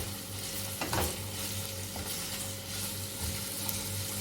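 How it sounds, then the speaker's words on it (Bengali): Onions fried over a raised high flame while being stirred continuously, giving a loud, steady sizzle with scraping utensil strokes across the pan close by. "ফ্লেমটাকে আমি কিন্তু এখন বাড়িয়ে দিলাম দিয়ে ক্রমাগত এটা চালাতে থাকলাম"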